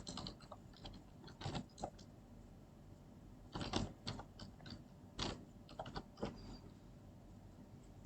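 Someone types a search topic on a computer keyboard, producing irregular bursts of quick, close key clicks separated by short pauses.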